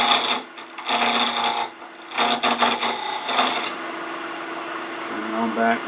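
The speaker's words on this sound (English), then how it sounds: "I'm just going to use this skew to take a little bit of a planing cut here." A skew chisel takes a light planing cut on spinning wood on a lathe while a magic wand is turned, making a broad rasping hiss in bursts. The lathe's motor hum carries on between cuts.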